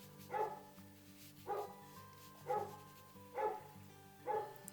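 Five evenly spaced barks, about one each second, come from a big guard dog in the background, each one a clear burst over a soft steady musical bed.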